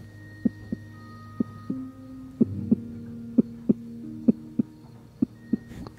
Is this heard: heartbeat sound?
yes